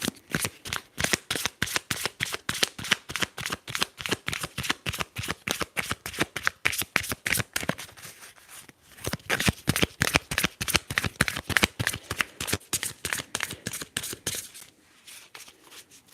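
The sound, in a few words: tarot cards being shuffled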